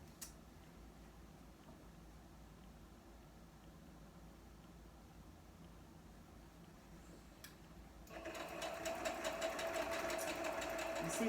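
A sewing machine stitches fabric for a half square triangle quilt block: after a long stretch of faint room hum, a steady, rapid mechanical whir starts up close and keeps running.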